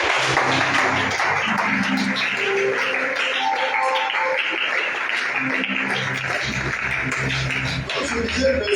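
A church congregation at a French-language sermon applauds steadily throughout, dense sustained clapping and cheering mixed with background music and voices.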